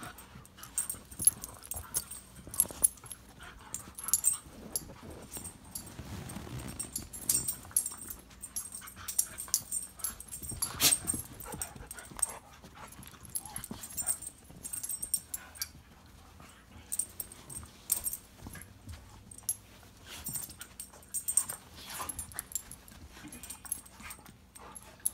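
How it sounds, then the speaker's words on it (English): Two dogs scuffle at home, with scattered growls, yips and whimpers coming in irregular bursts over about 25 seconds at moderate loudness. "My dogs are fighting, and it's a better fight than Brock and Goldberg."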